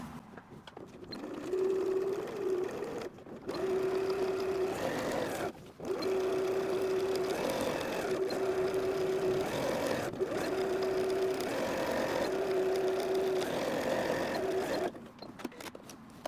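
A sewing machine stitches back and forth across a fabric patch while mending, a steady mechanical whir running in repeated bursts with brief pauses between passes, close and fairly loud, with no talking.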